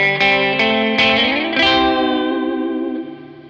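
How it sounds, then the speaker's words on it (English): Electric guitar playing partial chords from a song with an effects-laden, chorused tone, several picked chord stabs followed by a whammy bar dive that bends the pitch down and lets it ring out, alone and close. "with a little whammy bar dive at the end."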